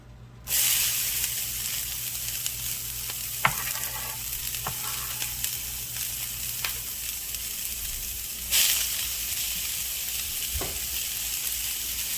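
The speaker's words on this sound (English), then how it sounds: "let these saute for a few minutes" Chopped onions frying and sizzling in a pan for beef and cheese enchiladas, a steady broadband hiss throughout with a few faint clicks and stirring knocks, a brief louder sizzle burst near the end; no talking.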